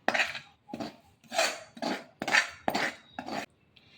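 Fried onion and salt being stirred in a pot by hand: a series of about seven scraping, clinking strokes of a utensil against metal in an uneven rhythm, fairly close and quiet, with no talk.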